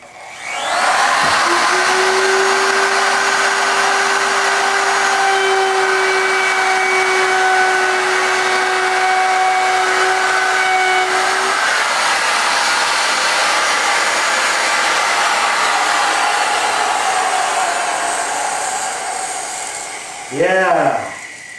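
Porter-Cable power sander running steadily on an antique oak table top, a loud continuous whir with a sustained tone that holds for most of the stretch before winding down near the end.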